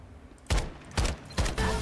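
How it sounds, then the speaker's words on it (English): A K gun in Farlight 84 fires three sharp, heavy-recoil bursts about half a second apart, each a loud crack with a brief ringing tail, on a quiet background. "The recoil on this K is drastically crazy."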